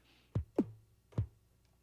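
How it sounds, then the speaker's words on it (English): Three soft, muffled electronic drum hits from a Dr. Octarex pattern in Reason, spaced unevenly within under two seconds, quiet and dull, with no voices over them. "But it's a more subtle, muffled type drum sound."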